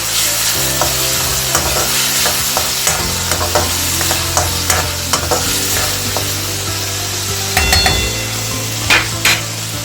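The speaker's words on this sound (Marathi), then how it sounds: "छान याला एकत्र मिक्स करून घेऊया।" Matki and potato curry mixture stirred in a pan, with steady frying sizzle under repeated scraping and knocking strokes of a spoon against the pan, loud and close throughout.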